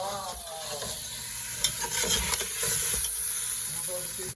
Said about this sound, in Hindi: मैं टमाटर और जो शिमला मिर्च और सब्ज़ मिर्च जो कुटी हुई थी वो ऐड कर दूँगी, और इनको थोड़ा भून लूँगी